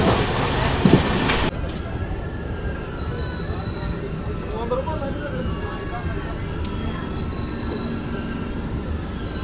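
Janmabhoomi Express, a push-pull locomotive train, arriving at Nalgonda railway station in Telangana: a brief loud clatter at first gives way to a steady rumble of rolling wheels and high, drawn-out wheel squeals.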